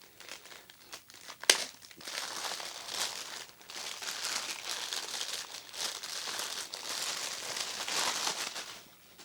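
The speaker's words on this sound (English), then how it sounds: "So I'm going to go ahead and open up the packaging." Plastic product packaging for a Livewire cable tester being opened, with steady crinkling and crumpling, a sharp snap near the start, then continuous close rustling and tearing with no talk.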